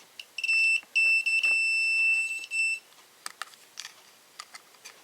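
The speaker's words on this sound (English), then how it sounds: "That's beeping before I even" Electronic beeping: a steady high-pitched tone sounds twice over about two seconds, then stops, followed by faint scattered clicks and taps.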